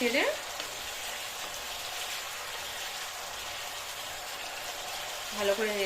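Chicken chili gravy with tomato sauce and a little sugar is stirred in a pan, a steady frying sizzle running throughout with brief scraping at the start and end; a voice is heard faintly at moments.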